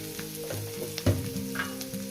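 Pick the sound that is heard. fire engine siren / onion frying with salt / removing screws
onion frying with salt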